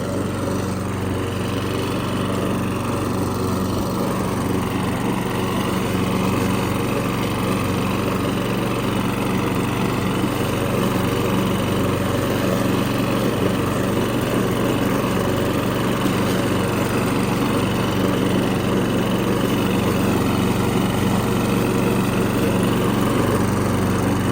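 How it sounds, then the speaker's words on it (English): A vintage Honda HRS-21 lawn mower engine runs continuously at a steady, loud drone with a constant low hum throughout, close by and without any talking. "you can just see how quiet this mower it really is"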